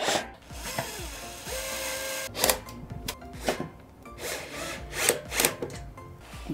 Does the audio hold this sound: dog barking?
no